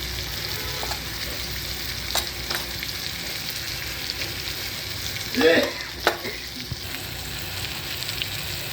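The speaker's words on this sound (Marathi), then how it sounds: "आधी तिखट टाकायचं आणि मग चवळी टाकायची शिजलेली" Steady sizzle of a frying pan as chili powder and cooked cowpeas go in, with a couple of short stirring scrapes and a sharp clatter near the middle.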